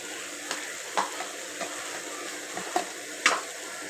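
Spices with tomato, turmeric and chili powder fry in a pan for vada curry while a spoon stirs, giving a steady soft sizzle broken by repeated scraping clinks.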